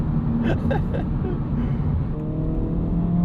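2025 Honda Civic Type R in R mode pulling hard through the gears on a city road, a steady close engine drone with rising harmonic tones from acceleration and some cabin rumble, no talking.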